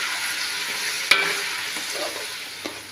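Chicken sizzles steadily frying in oil in a pan, with a sharp clink of a utensil partway through and light stirring noises.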